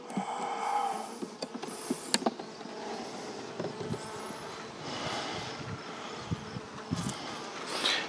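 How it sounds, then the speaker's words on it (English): A handful of bees on a frame from a side-stacking hive buzz faintly and intermittently, close by, over a quiet background with a few soft knocks and rustles. "Just a handful of bees running around there."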